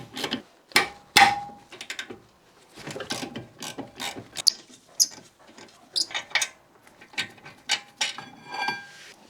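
Ratchet undoing the 14mm brake carrier bolts on an NC Mazda MX-5 Miata rear hub, rapid bursts of close, crisp clicking in uneven strokes with short pauses between them.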